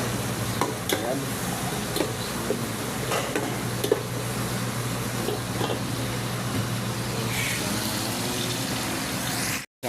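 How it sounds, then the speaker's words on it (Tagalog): Onion, garlic and ginger sautéing in a pan for chicken tinola with papaya, a steady close sizzle with scattered stirring scrapes and taps, and a brief spoken word over it. "Ang ating ginigisang sibuyas, bawang, luya."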